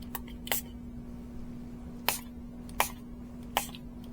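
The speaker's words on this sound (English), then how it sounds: "I'm going to spray it with alcohol" A spray bottle mists alcohol onto resin in four or five short, sharp spritzes, spaced irregularly and fairly quiet over a steady low electrical hum, with no talking.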